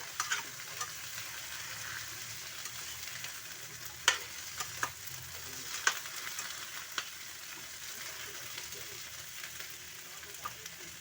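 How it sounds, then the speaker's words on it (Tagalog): Vegetables for ginataang gulay sauté in a pan with a steady close sizzle, broken by occasional sharp pops and utensil clicks throughout. "Gigisahin lang muna natin ito"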